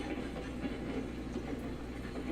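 Train rolling along rails in the Railroads Online game, locomotive hauling cars up a hill, giving a steady low rumble with faint hiss and soft clatter throughout, no talk.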